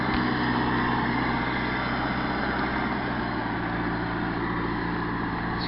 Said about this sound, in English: It's really quiet. I'm surprised. Cat engines are normally pretty loud.